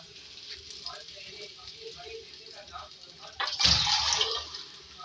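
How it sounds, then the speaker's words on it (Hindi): Half a glass of water hitting hot oil with frying garlic paste in a home kitchen pan, a sudden loud splash and burst of sizzling that continues bubbling, following quieter background frying. "इसमें पानी ऐड करेंगे, हाफ गिलास।"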